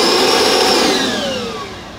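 A Milwaukee 18-volt cordless vacuum runs with a loud, close, steady motor whine that slowly drops in pitch as it winds down over about two seconds. No voices are heard.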